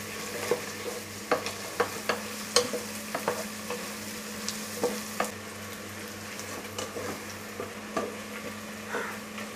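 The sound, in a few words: onions frying and being stirred in masala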